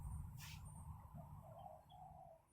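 A white bird, likely a dove or pigeon, gives a soft, faint cooing call with a few brief chirps in a quiet room over low background hum.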